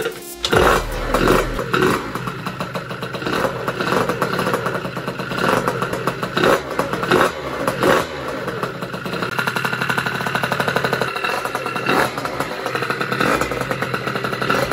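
A SPTRO 86cc aluminium top-end moped engine kicks over and fires, then runs with a loud, rough, crackling two-stroke note that rises and falls through blips of the throttle.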